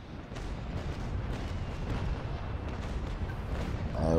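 Ship cannon fire in the naval battle game Naval Action, a dense continuous rumble of booming shots rolling together without a break, loud and low, with no voices.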